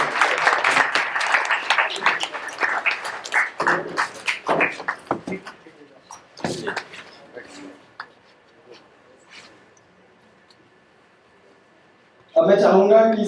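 An audience at a stage performance event claps loudly for several seconds, fading into quieter scattered claps and near silence before talk resumes abruptly at the end.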